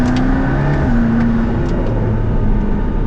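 A hypercar accelerating near St-Tropez produces a close, continuous engine drone whose pitch shifts and climbs, loud and steady throughout with no talking.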